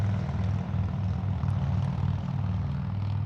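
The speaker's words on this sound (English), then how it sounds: "Those motorcycles going by." Low engine drone rumbles steadily from vehicles passing on the Alaska Highway, heard from a roadside pullout, a continuous heavy hum without talk.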